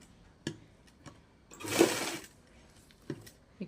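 A sewing machine stitches a fabric cover for a Gutka Sahib prayer book, giving a short burst of mechanical whirring near the middle with a few faint clicks before and after, fairly quiet and with no talk.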